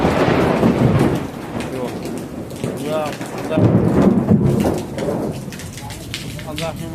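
Heavy unseasonal summer rain pours steadily with deep rumbling swells of thunder at night in Khambhalia, birds cooing faintly, and a voice speaking briefly.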